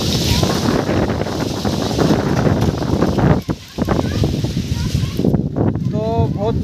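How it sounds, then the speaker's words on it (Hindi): Strong wind buffets the microphone with a loud, continuous roar in a village as mangoes fall from the trees; a person speaks over it throughout. "बहुत तेज हवा आ रही है"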